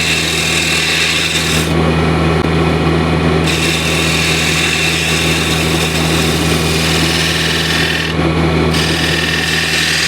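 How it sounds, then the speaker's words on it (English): A 10mm spindle gouge cuts a bead on wood spinning on a lathe, giving a steady, loud, close scraping hiss over the lathe's constant motor hum, with two brief pauses in the high cutting noise. "I use it with I do it with a spindle gouge, 10mm spindle gouge."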